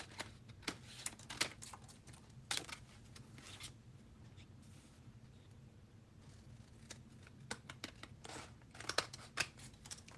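Scissors snipping paper pieces for a woven faux matelassé craft background, with close, crisp clusters of cuts at the start and again near the end and a quieter stretch of rustling between.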